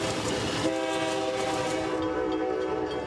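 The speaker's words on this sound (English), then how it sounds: "You can't help but notice the seemingly non-stop trains and boat traffic in the coastal community of New London and Groton, Connecticut." A train passes through the coastal community of New London and Groton, Connecticut, loud and close with rumbling wheels and a sustained horn blast partway through.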